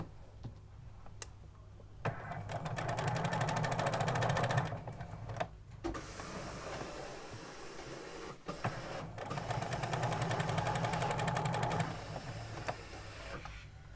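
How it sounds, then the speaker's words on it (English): A sewing machine runs a straight stitch with a backstitch along a sleeve seam, whirring in steady bursts with brief pauses between runs, its fast mechanical ticking close and clear, and no one speaking. "So start sewing, a back stitch, and then just stitch all the way along, removing the pins as you go."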